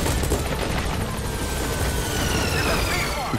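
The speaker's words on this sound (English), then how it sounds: "So we'll call the helicopter back to our landing zone." Loud, continuous rotor thumping and engine whine of a helicopter arriving at a landing zone in Metal Gear Solid V: The Phantom Pain, mixed with bursts of rapid gunfire and booms.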